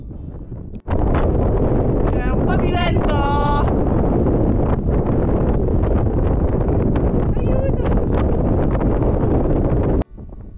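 Strong wind buffets the microphone near the summit of Sardinia's highest mountain, a loud continuous roar that fills the whole clip with brief gusty drops at the start and end, and a voice speaks faintly beneath it.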